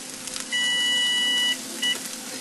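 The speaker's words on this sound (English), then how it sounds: "I'm going to turn off that beeper" A kitchen timer beeper sounds in a kitchen where millet cooks on a hot plate, giving one sustained high electronic tone for about a second, then a short second beep, over faint background hiss.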